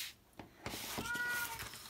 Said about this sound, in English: And I apologize for my cat in the background.